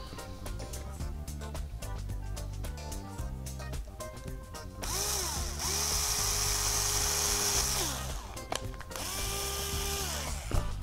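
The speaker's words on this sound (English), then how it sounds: "we're drilling a hole about 3/8 of an inch up here" A power drill whirs in short bursts, then runs steadily as it bores a 3/8-inch hole in a frame, its pitch dipping and rising with the load.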